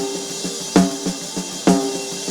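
Drum track processed with a Fabfilter Pro Q3 EQ: a few punchy, widely spaced hits with ringing tonal body over a thin hiss, played alone and fairly loud.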